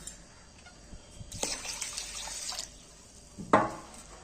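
Water runs and splashes as soaked rice is rinsed in a bowl, with a steady pour of a second or so, quieter trickles, and a sharp splash near the end, close and without talk.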